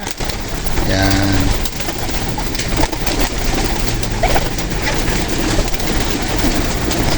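Pigeon breeders coo steadily at close range in a backyard loft during a morning release, a low throaty repeated call over constant background noise and occasional faint rail rumble.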